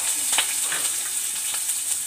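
Mustard seeds, cumin and peanuts frying in hot oil in a pan, giving a steady close sizzle with small crackles and pops throughout.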